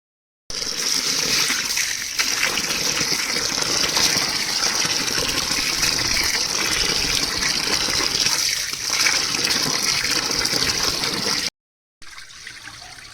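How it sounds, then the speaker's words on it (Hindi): Wheat grains being rinsed in water to remove clumps of soil, with a steady close gushing and splashing that runs for about eleven seconds, then stops briefly before a quieter splashing resumes. "तो हम दोनों अब धो रहे हैं गेहूँ"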